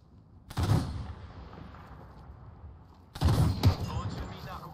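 Gunfire in the video game Apex Legends: two loud bursts of rapid shots, one short and one longer, separated by a quieter stretch of background game noise.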